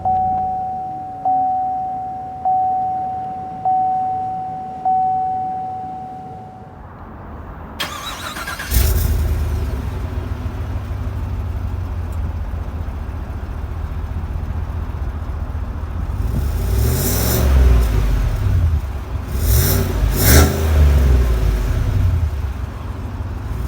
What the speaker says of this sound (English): The engine start stop button is right there, and you just press it.